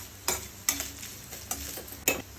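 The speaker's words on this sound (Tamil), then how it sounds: "இதை நெய்யிலே நல்லா வறுத்துக்கோங்க." About a quarter cup of grated coconut is roasted in ghee for laddus and stirred with four distinct scraping strokes, spaced roughly half a second apart, over a soft, quiet sizzle with no voices.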